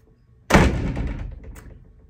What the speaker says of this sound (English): please don't slam the door